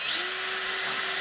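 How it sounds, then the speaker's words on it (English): A power drill bores into a DIY model cave with a steady, even whine that holds loud and unbroken throughout. "go ahead and drill so I don't break through"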